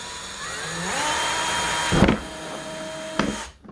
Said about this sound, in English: Just gonna drill this into the top on the side